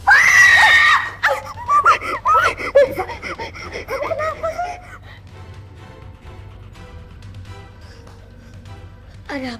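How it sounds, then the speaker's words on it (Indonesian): A loud scream bursts out at the start, followed by gasping, breathy cries that fade into a quieter stretch with faint background noise. "ada yang teriak-teriak"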